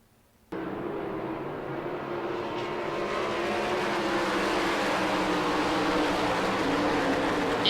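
Race cars in a dirt-track heat roaring into turn one, a dense, steady engine drone that builds slightly as the pack pushes on, heard from a distance with no talk.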